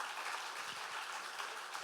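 A crowd claps steadily at a talk about divorce, a dense, even patter of many hands with no voices over it.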